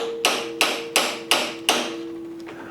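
Five sharp metallic hammer strikes at a steady pace ring out close by as a frozen leaf spring shackle bushing from a 1976 Jeep CJ-5 is knocked in a vise, each hit leaving a brief ringing tone.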